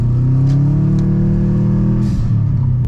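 A car pulls away in first gear on snowy ground, its mid-pitched engine note holding steady and then rising with revving, loud and close, with a few brief crunching and whooshing touches.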